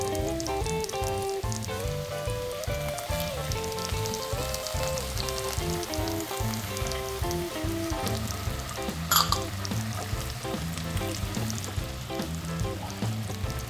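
Garlic frying in cooking oil over medium heat for a soy sauce, a steady crackling sizzle that carries on throughout with occasional stirring, close and moderately loud, no talk.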